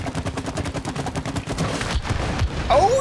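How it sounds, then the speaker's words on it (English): Rapid gunfire in the co-op video game It Takes Two, a fast steady rattle of shots aimed at a target, ending in a louder burst with some game effects over it. "So I shoot the thing and you shoot the target."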